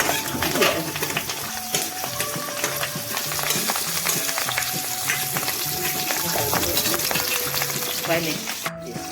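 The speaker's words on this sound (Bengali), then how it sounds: "এবারে কড়াইতে তেল দিয়ে এগুলো ভেজে নেব" Oil frying pieces of rohu fish paturi in a wok, a steady close sizzle with stirring clatter running throughout without a break.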